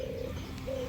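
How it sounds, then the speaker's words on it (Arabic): Birds call at a garden bird fountain in midday heat: two soft, low coos, one at the start and one near the end, close and clear over a steady background hum. "فأكثر الطيور وقت الظهر تكون على الماي"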